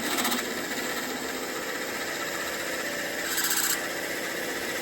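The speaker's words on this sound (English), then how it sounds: "using what is probably a 9/32 drill bit, I start to drill the center" A steady, loud whir of a lathe drilling the center of a metal waterfall clip with a 9/32 drill bit, the grinding machine noise continuous throughout with a slight rise near the end.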